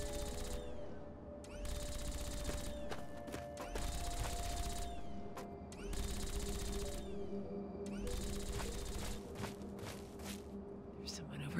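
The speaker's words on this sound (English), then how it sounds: "somebody's shooting at me" Gunfire in the video game Fallout 3, bursts of rapid shots in repeated blocks with footsteps, under someone talking.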